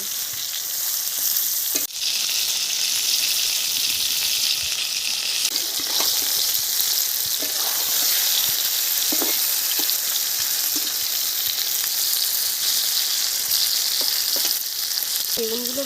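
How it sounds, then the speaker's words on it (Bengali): Eggplant (brinjal) pieces seasoned with turmeric and salt fry in hot oil, giving a loud, continuous sizzle with a few scattered clicks and taps of stirring. "এইভাবে বেগুনটাকে ভালো করে ভেজে নেব"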